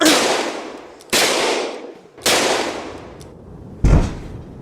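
Gunfire in an animated cartoon comes as three loud, sharp blasts with decaying tails, spaced about a second apart, then a fourth heavier bang near the end, with no speech over them.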